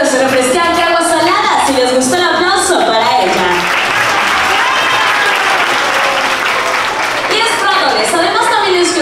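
Audience clapping along in rhythm at a sea lion show in a Mazatlán aquarium, loud and sustained throughout, with music and a presenter's voice over the steady applause.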